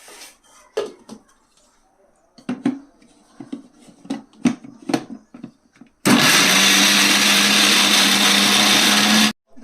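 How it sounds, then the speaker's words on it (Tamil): A kitchen mixer grinder whirs loudly and steadily as it grinds shallots, ginger and garlic, preceded by clinks and knocks of loading the jar; the motor cuts off abruptly. "சின்ன வெங்காயம், இது இஞ்சி பூண்டு, இது நம்ம இதுக்குள்ள மிக்ஸிக்குள்ள போட்டுக்கலாம்"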